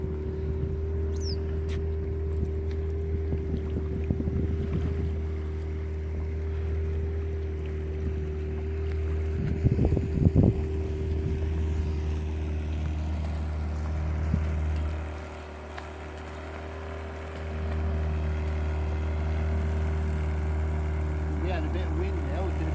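An outboard motor on a yacht drones steadily and close, a constant low hum that dips briefly midway, with wind buffeting and people talking over it at times.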